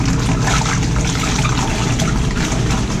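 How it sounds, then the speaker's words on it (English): A small RV laundry washing machine agitating with soapy water, a steady loud sloshing and churning wash that fills the whole stretch without pause. "So it'll take a few seconds to spin one direction, and then it changes the other way."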